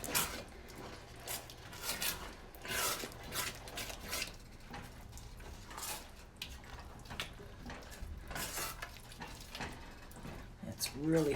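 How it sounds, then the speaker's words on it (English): A spoon scrapes and clinks around a pot of thick Creole chicken gumbo in a home kitchen, irregular close metallic knocks and wet stirring, with a person talking over it. "let's stir that up again"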